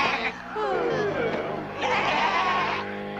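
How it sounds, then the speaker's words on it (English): Cartoon sheep bleat in a 1986 animated Smurfs episode, with wavering bleats layered over one another in a dreamy scene. "And there are the Sandman's sleepy sheep."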